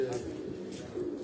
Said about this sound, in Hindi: कबूतर है जी